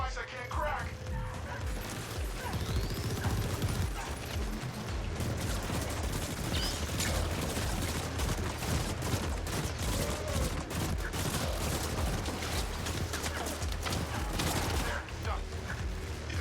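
Rapid, dense gunfire in the video game The Ascent, a continuous fusillade of crackling shots and mechanical clatter, loud and sustained, with voices talking over it.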